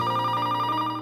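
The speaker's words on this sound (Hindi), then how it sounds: "फोन की घंटी।" A telephone bell rings in a steady electronic trill, loud and continuous for the whole moment, with no voices over it, during an indoor drama scene.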